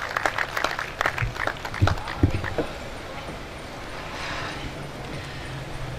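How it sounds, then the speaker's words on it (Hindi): An audience at a mushaira poetry gathering claps to welcome a guest poet, a burst of dense clapping that gradually thins and fades into a low murmuring room hush. "अपनी भरपूर तालियों में करामत बुखारी साहब को वेलकम कीजिए"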